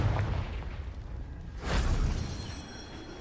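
A Confringo spell explosion in Hogwarts Legacy lands as one sudden whooshing blast midway that rings out and fades, set over a low rumbling game background.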